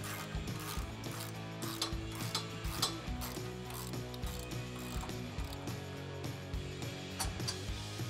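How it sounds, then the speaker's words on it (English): A socket ratchet on brake caliper bolts of a Mustang GT clicks in quick repeated bursts, a close metallic pawl chatter that stops and starts over several seconds with no talking. "now I have a 15 millimeter socket, and I'm gonna take off the whole caliper and bracket"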